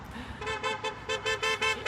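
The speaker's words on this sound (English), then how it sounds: "2 honks. Back of me and in front of me." Car horns honk on a roadway from vehicles behind and ahead: a rapid run of about seven or eight short, moderately loud toots in an even rhythm over faint traffic noise.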